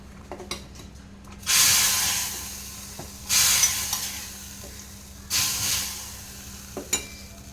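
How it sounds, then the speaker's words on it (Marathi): Spice tempering poured into hot dal, three sharp bursts of loud hissing sizzle separated by quieter gaps with small clinks of utensils, close by. "सो आता हे छान आपण ह्या वरणामध्ये फोडणी देऊया"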